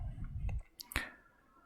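A computer mouse gives two sharp clicks close together, crisp and close, after a low rumble of room noise in an otherwise quiet office setting.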